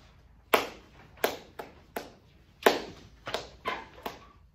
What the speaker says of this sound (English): let's clap our rhythm for this piece